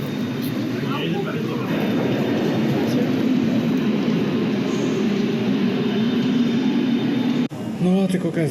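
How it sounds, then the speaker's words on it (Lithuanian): Trains run through a large Berlin railway station, a continuous low rumble of rolling stock and wheels filling the hall, with faint voices in the background and a brief break before the noise resumes. "Ten traukiniai važiniai."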